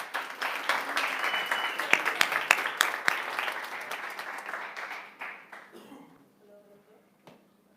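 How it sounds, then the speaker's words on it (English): Applause from a crowd at a UX design meetup in Lisbon, individual claps popping out of a full round that builds, holds, then thins and dies away into quiet near the end. "Round of applause for them."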